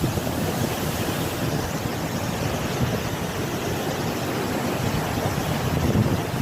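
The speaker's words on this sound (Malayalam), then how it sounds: "കടല് ഭയങ്കര റഫാണിപ്പോ." Rough sea waves roar and surge continuously behind a house, a dense low rumble mixed with wind buffeting the microphone.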